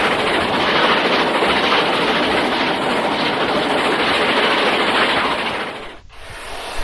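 A Great Western Railway locomotive races past the Newton Prior signal box, a loud close rushing roar of train and wheels that holds steady, then cuts away abruptly near the end.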